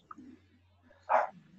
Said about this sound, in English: Who has a dog? That is barking outside.